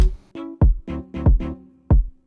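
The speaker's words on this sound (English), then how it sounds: "We start off pretty simply with a kick." A punchy, bass-heavy kick drum from a synthwave track hits about seven times in an uneven pattern, each a deep thump with a falling pitch, heard alone and up close.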